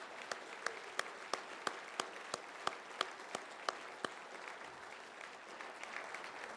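Steady applause from a large audience at a fundraising dinner, with sharp individual claps standing out over a dense wash of clapping throughout.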